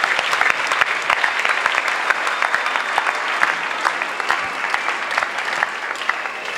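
Large crowd applauding at an evangelistic crusade and deliverance gathering in Douala, steady loud dense clapping sustained throughout.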